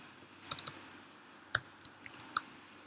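Keys tapped on a computer keyboard while entering a command to run a Java program on a Raspberry Pi, in a quiet room: sparse clusters of crisp, close clicks with short pauses between bursts, no voices.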